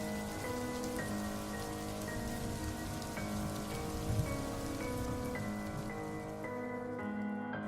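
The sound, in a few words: heavy rain falling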